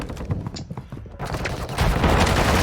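Rapid gunfire rattles through a Call of Duty: Modern Warfare II match, dense and continuous, with crackling shots that swell into a heavier, louder barrage toward the end.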